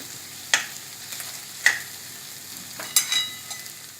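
Dosa batter mixture being stirred, with a few sharp scraping knocks of the spoon against the vessel spaced across the stretch, each close and fairly distinct over a faint background, with no voices.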